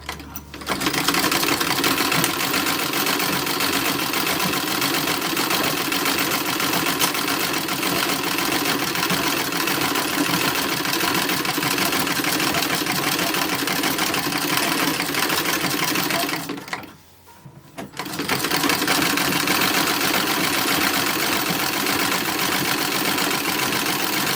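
An electric sewing machine stitching run and fell seams on a 1930s-1940s style toddler romper hums in a fast, continuous whir, stopping briefly partway through before starting up again.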